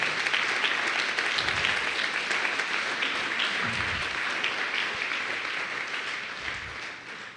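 A church congregation at a Sunday service breaks into sustained applause for their king, a dense, even patter of many hands that carries on for several seconds and slowly tapers off.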